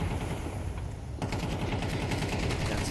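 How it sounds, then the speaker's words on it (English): Tech-9 pistol fire during a Counter-Strike match on Nuke, a dense burst of rapid gunshots starting abruptly partway through and continuing loud under steady game ambience. "The Tech 9 shots were not too far off the mark."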